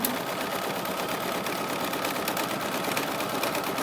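An embroidery machine quilts the borders of a Kimberbell Cuties table topper, stitching down each side of the fabric with a steady, dense, continuous mechanical whir that holds an even level throughout.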